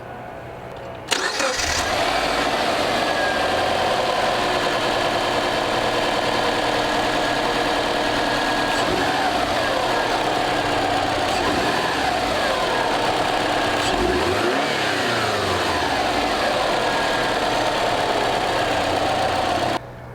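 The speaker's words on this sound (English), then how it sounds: "this is the stock sound with the microphone like right next to the intake" Stock intake of a 2005 Subaru Forester XT turbo engine recorded right beside the airbox: the engine starts within the first second, then idles steadily and loudly at close range with a brief dip and change in pitch partway through.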